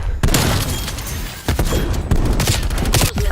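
Video game artillery fire: a dense, sustained barrage of booming blasts and crackling impacts, with repeated sharp broadband bursts at irregular intervals over a rumbling low end. Loud and close, with no voices present.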